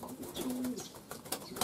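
Young pigeons coo softly at the open exit of a loft on their first day out, a low sustained coo drifting through faint rustling and a few sharper taps and flutters nearby.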